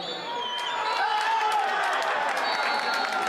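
Catania football supporters shouting at their team from beneath the stand after an away loss, a dense, sustained crowd roar with raised voices and scattered calls carrying through the space.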